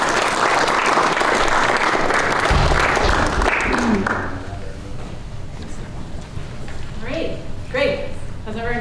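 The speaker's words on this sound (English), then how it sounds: "Please join me in giving her a round of applause." An audience applauds loudly for a few seconds, then the clapping fades as a single voice starts talking.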